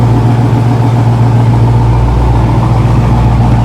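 Deep, steady idle from a Dodge Scatpack 392 V8 with a muffler delete and stock headers, cats and resonators, a loud, close, even burble with no talking.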